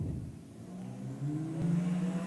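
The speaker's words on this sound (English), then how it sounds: "you can really hear the difference in engine volume as they take off." Drag racing cars, including an XE Ford Falcon S-Pack, rev hard and launch off the line at a nationals meet, a loud continuous engine roar that rises and swells as they take off.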